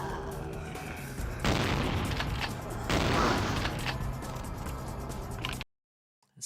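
Shotgun blasts in the video game Vampire the Masquerade Bloodlines, two heavy booming bursts with mechanical clatter over a loud rumbling background that cuts off abruptly near the end.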